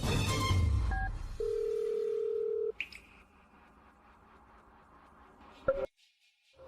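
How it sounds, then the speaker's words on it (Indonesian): Telephone dialing tones on a call: a few quick keypad beeps, then a long steady electronic tone, a higher tone and a final sharp beep before a short quiet gap, all clear and close with no talking. "Aku telepon dia."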